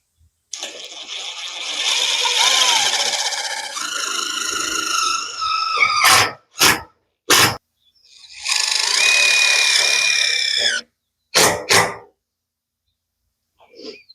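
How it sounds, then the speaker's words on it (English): A power drill driving screws into a garden build whines in two long sustained bursts, pitch shifting as it drives in, each followed by a few short trigger-pulled spurts. "I have the screws and the drill."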